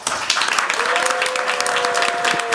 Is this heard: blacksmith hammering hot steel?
no